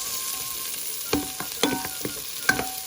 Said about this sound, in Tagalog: the garlic is turned light brown and cook, and also the ginger before we put the tomato.